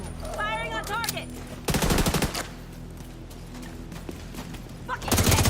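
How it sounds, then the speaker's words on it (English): Gunfire in a video game comes in two loud, rapid automatic bursts, one early and one at the end, with game voices and electronic tones in between. "Firing on target."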